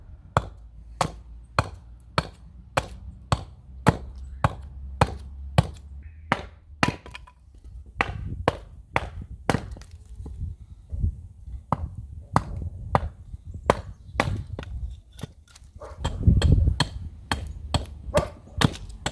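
A bushcraft tool splits and chips excess wood in sharp, regular strikes, about two per second, close and clear with little else around.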